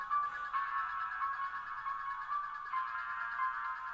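A dad's old phone ringtone plays as a steady, looping electronic melody at moderate volume, with no talking over it.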